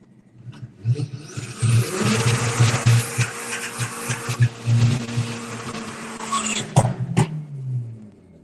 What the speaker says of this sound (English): the 20-valve turbo-powered Nissan Micra. It's got a little KO3 S turbo on there